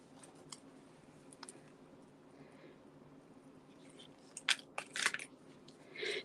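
Scissors cut paper craft material in a few quick, crisp snips toward the end, following quieter rustling and handling noise, close and fairly faint with no talking.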